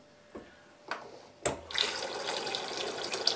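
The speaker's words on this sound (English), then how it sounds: "Turn off the stop tap and then open the tap to drain your system quickly." A household tap is opened to drain the plumbing, with a few faint clicks and a thud before a steady gush of water starts and keeps running close by.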